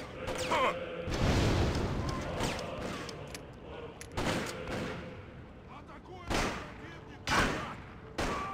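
Shotgun blasts from the video game Freedom Fighters go off in sharp, separate bursts, several heavy booms spaced irregularly with some echoing tails, mixed with game voices and background noise.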